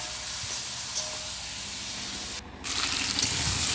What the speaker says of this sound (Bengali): তো দেখো এখানে আমি কষে নিচ্ছি, তোমরা দেখতে পাচ্ছ।